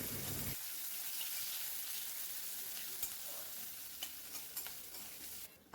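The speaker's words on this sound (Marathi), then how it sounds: "पातळ कांदा आहे ना तो नरम होईपर्यंत फ्राय करून घेणार" Thinly sliced onion frying in oil for a home fish dish, a steady close sizzle with intermittent spatula stirring and scraping clicks over the hiss, no speech.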